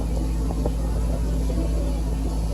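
A 2004 Pontiac GTO's 5.7L LS1 V8 idles to warm up after a water pump replacement, a steady low rumbling hum that stays even and close throughout.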